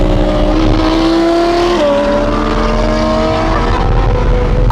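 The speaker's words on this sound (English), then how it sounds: "How crazy do both the cars sound together?" Loud engines revving close by, layered droning exhaust tones rising and shifting together, two straight-piped Audi R8s idling and blipping throttles.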